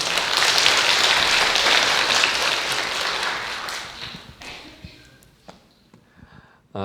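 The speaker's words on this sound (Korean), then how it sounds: "박수로 환영해 주시면 감사하겠습니다." Church congregation applauding to welcome a pastor to the pulpit, a dense, steady roll of clapping that gradually thins and fades out into scattered claps and room noise.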